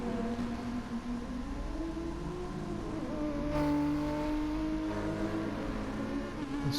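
Nissan GTR race car in a racing game, its engine holding a steady high droning whine down a straight, with rising pitch shifts and other cars buzzing nearby.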